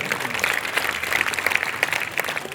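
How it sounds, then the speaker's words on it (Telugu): A congregation claps for God during a Lent season church service in Porumamilla, Kadapa diocese. The applause is dense and sustained for a few seconds, a busy patter of many hands filling the room. "చప్పట్లు కొట్టండి దేవునికి ఒకసారి"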